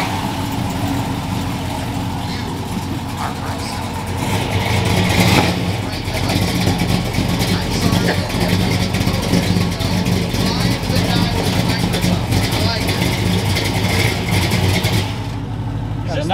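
A truck engine idles steadily with a low rumble and brief revs at a Holley Moparty 2021 burnout contest, while people talk nearby throughout.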